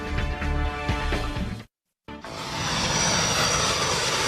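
Steady roar of jet aircraft engines, with a brief cut to silence midway before the broad, rushing engine noise returns louder and sustained.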